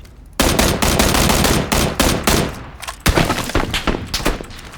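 Loud, close automatic gunfire in the battle royale game PUBG, with rapid sustained bursts, a short pause, then another burst of dense shots.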